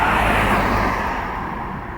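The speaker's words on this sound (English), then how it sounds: "I stood by the side of the road and recorded some cars go past" Cars pass by on a road beside a park, a close, loud broadband whoosh of tyres and engines that gradually fades as the vehicles move away.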